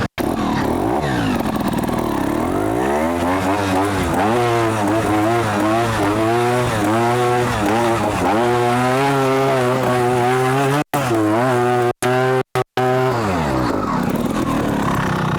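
A trials motorcycle engine climbs in third gear, revving loud and close with a rising, wavering whine that holds for several seconds and then cuts out sharply in a few brief breaks near the end.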